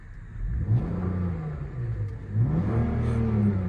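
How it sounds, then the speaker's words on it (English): A smooth 3.2 V6 engine in a Land Rover Freelander 2 idling, then revved twice, each rev rising in pitch and falling back to idle, heard up close. "this has got a beautiful sweet sounding V6, which is so smooth. Let's give it a rev."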